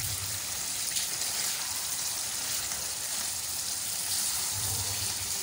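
Black pepper chicken karahi sizzles and fries steadily in a pan, a dense, even crackle and hiss that carries on without a break and without any talking.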